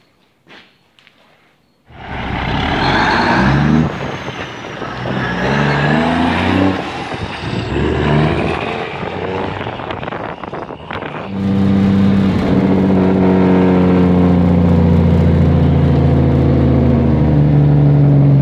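A 1971 Ford 9000 cabover truck's diesel engine roars loudly and close, with the harsh, rapid staccato of jake brakes and shifting revs, ending in a deep steady drone.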